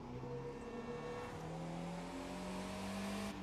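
A Fiat 500 Abarth engine in the racing game The Crew 2 revs and shifts pitch through the gears, a continuous close engine note with a brief squeal near the end.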